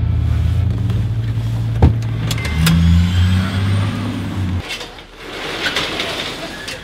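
A lighter Toyota Tacoma truck's engine rumbles nearby with a steady low drone, briefly revving, then cuts off partway through, leaving quieter ambient noise with faint birds.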